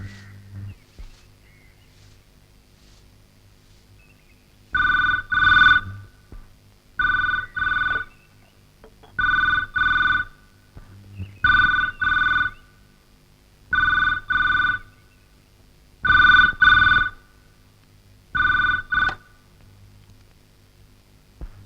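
A telephone rings in a steady repeating pattern, each ring a loud double burst followed by a short pause, about eight rings in all, close and clear over quiet background with no talking.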